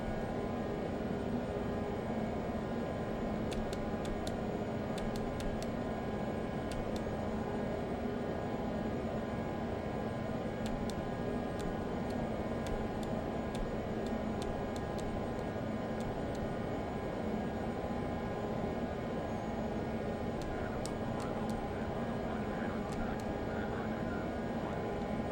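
A Learjet climbing out of Long Beach in a flight simulator game, with a steady, loud jet engine roar and broadband rush running unchanged throughout, plus faint high clicks.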